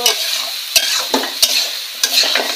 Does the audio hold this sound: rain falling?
no